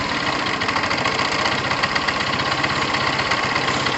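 A Tamoretti retro car's engine idles steadily, a continuous close mechanical hum with faint knocking texture and no breaks or changes in pace.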